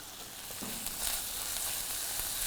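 Onions for butter chicken frying in a pan, a faint but steady hiss of sizzling oil with a brief low scrape near the start, with no voices.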